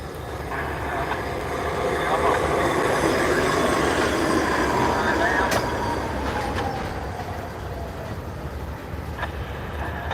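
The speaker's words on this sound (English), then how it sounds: "here comes the CSX high railer" A CSX hi-rail truck rolls along railroad track outdoors, its steel wheels rumbling and squealing in a steady, fairly close pass lasting several seconds, with faint voices nearby.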